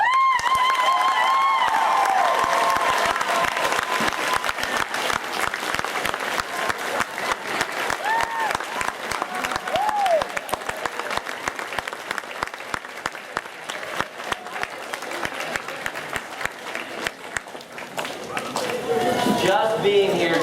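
A large convention audience gives sustained applause for agriculture teachers, a loud continuous roar of clapping with some cheering and crowd voices, lasting the whole stretch before thinning slightly near the end.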